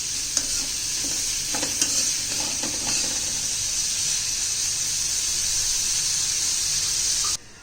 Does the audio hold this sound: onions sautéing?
yes